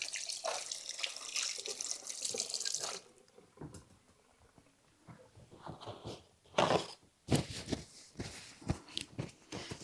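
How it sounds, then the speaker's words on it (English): Tap water runs into a kitchen sink for a few seconds, then hands are washed with intermittent splashing and dripping, quiet and close. "Let me wash my hands."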